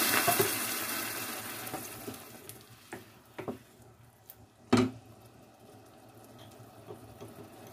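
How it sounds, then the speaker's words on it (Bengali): Water splashes into a pan of chicken cooking with whole spices (bay leaf, cardamom, cinnamon, peppercorns, cloves): a loud hiss and sizzle at first that fades, with a few sharp clinks and one knock along the way. "এখন একটু পানি দিয়ে দিব"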